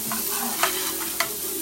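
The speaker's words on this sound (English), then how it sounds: "You're going to let the onions saute for a minute." Onions sautéing in a hot pan, a steady close sizzle with a few brief stirring scrapes breaking through, no talking.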